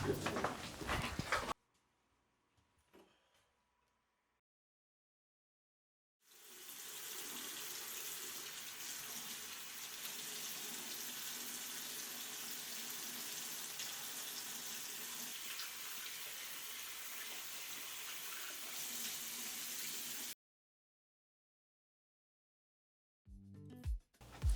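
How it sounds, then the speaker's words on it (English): Hands are rinsed with soap under a running water tap: a steady, loud rush of water that lasts about fourteen seconds with no talk, set between quiet stretches. "wash your hands with soap and water"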